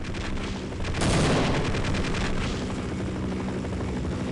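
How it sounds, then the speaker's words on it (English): A helicopter in the video game Half-Life thunders overhead with loud rhythmic rotor chopping and bursts of heavy machine-gun fire, swelling suddenly and staying steady and close. "hiding from the helicopter right here"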